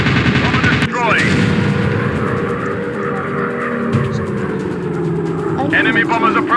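Video game gunfire from enemy bombers rattles in rapid bursts over droning aircraft engines, with a voice talking throughout and sharp zipping effects near the start and end.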